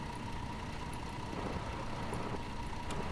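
A tour bus engine idles in the Tourist Bus Simulator game, a steady low mechanical drone with a faint hum, continuous and fairly quiet, with no talk.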